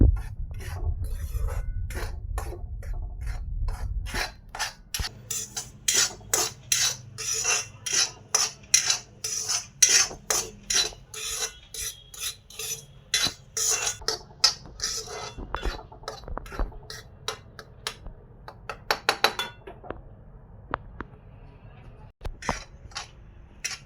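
A utensil scrapes and clinks rhythmically against a pan as semolina is roasted in ghee, repeated stirring strokes close and clear, preceded by a low sizzle.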